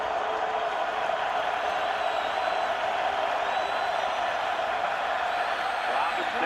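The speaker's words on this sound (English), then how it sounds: "And this crowd continues to find a new octave." A stadium crowd roars steadily and loudly through a football playoff game, an FCS quarterfinal between North Dakota State and Illinois State, forming a dense, unbroken wall of sound from start to finish.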